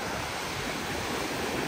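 Ocean surf washing onto an African beach, a steady broadband wash that holds evenly for the moment with no distinct break or voices.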